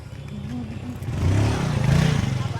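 A motorcycle engine hums and rises in pitch as it picks up speed on a village road, a steady close-up drone with some clattering road noise.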